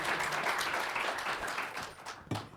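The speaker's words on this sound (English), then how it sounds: "let's all give her a nice round of applause" An audience at an annual distinguished planner lecture claps steadily and densely to welcome a speaker to the podium. The applause thins toward the end as a voice begins.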